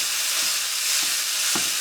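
Sausage broken up and browning in a pan gives a constant close sizzle, with three soft scraping pushes of a utensil spaced across it.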